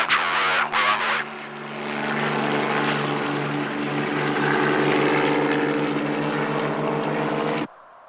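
Aircraft engine drone with propeller or rotor hum, loud and close, starting with a few brief bursts then holding a steady throbbing roar for about six seconds before cutting off abruptly.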